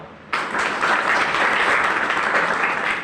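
Audience applause at a village career guidance camp, loud dense clapping that starts abruptly and holds steady for a few seconds, no voices over it.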